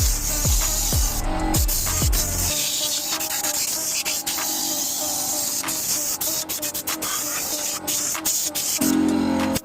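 Pressure spray washing a car engine bay, its main parts wrapped in rags against water: a steady, loud hissing jet with rising and falling rasping bursts as the spray moves over metal, after a few short thuds at the start.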